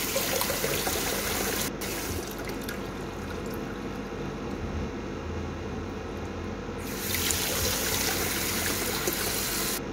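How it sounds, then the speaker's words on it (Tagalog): Tap water runs steadily over kimchi being rinsed, a continuous close splashing stream that thins briefly midway before pouring fully again. "Hugasan din ng konti. Yung patuluan lang siya ng tubig."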